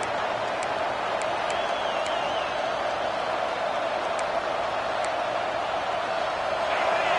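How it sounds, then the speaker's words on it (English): A college football crowd at a Nebraska versus Oregon game fills the stadium with a continuous, even roar of massed voices, with no single sound standing out. "Listen to the crowd energy here in the early going."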